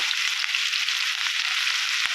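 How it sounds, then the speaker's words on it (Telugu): Steady, dense sizzling of onions frying in hot oil, close and fairly loud, continuous throughout with no talking. "ఉల్లిపాయలు వేసాను ఎందుకంటే ఆల్రెడీ వేడిగా ఉంది ఆయిల్ వేడెక్కింది"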